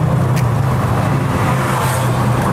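Steady low rumble of a Kuala Lumpur traffic jam, with engines idling and creeping, a continuous close hum with no horns.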